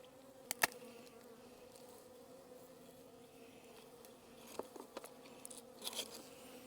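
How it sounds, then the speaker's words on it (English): Faint, close hum of honey bees shipped from Hawaii buzzing inside their package, a soft continuous drone with a few light taps and rustles; no voices. "So wild that these bees were in Hawaii just a few days ago."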